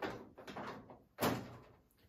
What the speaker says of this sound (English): Make sure this door is shut.